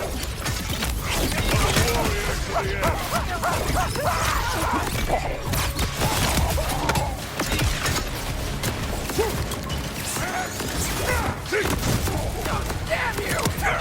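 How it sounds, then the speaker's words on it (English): A grinder machine in a video game winding down, a dense continuous grinding and clanking mechanical roar with creaks and rattles, loud and close throughout, with a voice talking over it. "The grinder's running down now."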